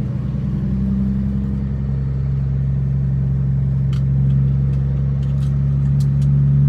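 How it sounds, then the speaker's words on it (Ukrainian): A car engine hums steadily from inside the vehicle in traffic near Austin, Texas, a loud low rumble with a pitch shift suggesting a gear change and faint clicks near the end. "І будете ви тепер чути двигун,"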